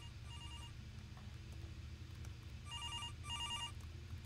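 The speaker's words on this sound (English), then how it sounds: "Is that a phone?" A telephone bell rings faintly in short bursts, one ring and then a double ring, over a low rumbling background hum in a dim indoor space.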